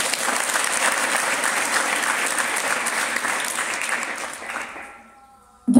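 Audience applauding at a school farewell ceremony for Class 12 students, steady dense clapping from a large crowd that holds for about four and a half seconds before tapering off, then a brief sharp sound right at the end.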